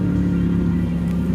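A Ducati Diavel 1260 motorcycle idles close by near a wall, its engine giving a loud, even low-pitched throb with a steady pulsing rhythm throughout.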